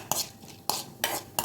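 Chana dal and urad dal sautéing in hot oil, a spoon scraping and clanking against the pan in three or four distinct strokes over a soft background sizzle, close up, no voices.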